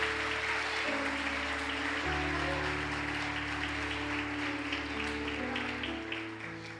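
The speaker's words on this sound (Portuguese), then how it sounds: "Aplauda Jesus" Church congregation applauding during worship, sustained dense clapping over held keyboard or organ chords, steady throughout and tapering slightly at the end.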